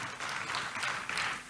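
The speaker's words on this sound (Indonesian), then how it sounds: "Tepuk tangan dulu buat Tuhan Yesus." Brief burst of congregation applause during a church sermon, fairly faint and distant clapping that swells slightly and holds for a moment.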